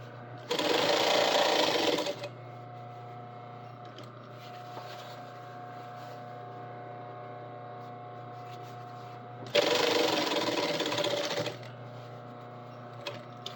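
A sewing machine running two loud bursts of double top stitching along a trouser seam, each about two seconds long, with a steady low hum between them.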